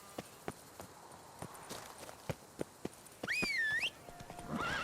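Hooves of the horse Roach in The Witcher 3 clip-clop at a steady walking pace, a regular series of sharp knocks, then a loud whinny and some louder ambient noise toward the end.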